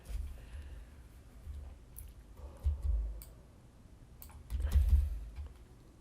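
Computer mouse clicks while modeling in Autodesk Inventor, a handful of scattered light clicks with some desk bumps and soft handling noise between them.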